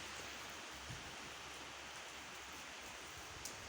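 Steady rain pattering on garden plants, kale and amaranthus beds with container plants nearby, a dense even hiss of drops throughout with no voices.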